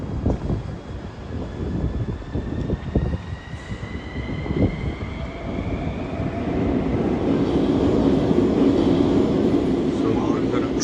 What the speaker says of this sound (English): So I'm gonna take the metro.